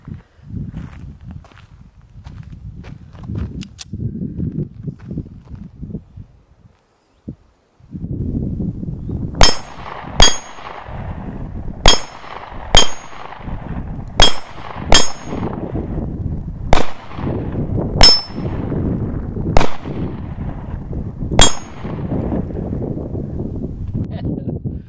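Canik Sting Ray-C pistol fired at an outdoor range in slow double taps: about ten sharp, loud reports in pairs over steady wind and movement noise. No talking.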